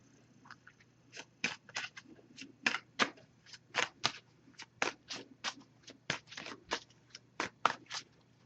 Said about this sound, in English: I'm just going to give this a few shuffles, and then we'll cut the deck and pull a card.